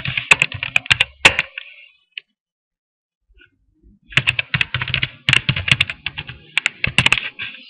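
Rapid clicking of computer keyboard keys as a short welcome greeting is typed on a blog page, with close, crisp bursts of keystrokes broken by a pause of near silence in the middle.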